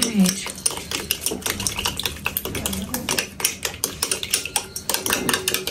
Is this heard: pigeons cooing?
no